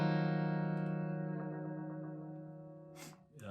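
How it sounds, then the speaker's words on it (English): An electric guitar lick picked close to the bridge for a bright, sitar-like tone in a song intro: sustained ringing notes slowly fade, followed by a short scrape of string noise at the end. "you're gonna come down here close to the bridge so you get that more of a sitar sound"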